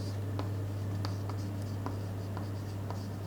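Marker or chalk writing on a board during a classroom geography lecture, a steady scratching stroke pattern with soft repeated taps over a constant low electrical hum.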